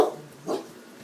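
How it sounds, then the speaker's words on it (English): Indoor dog barking on a rainy day, two short, fairly faint barks about half a second apart, heard alone in a quiet room. "when it rains, he barks at the raindrops"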